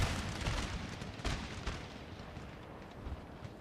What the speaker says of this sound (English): Meanwhile, the cannons continue to batter those guys.